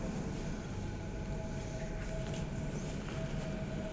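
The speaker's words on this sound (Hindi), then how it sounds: "देखो आवाज़ बहुत दूर से आवाज़ आता है मेट्रो" A distant metro train approaches as a steady low rumble with a faint whine, heard alone and at a constant moderate level.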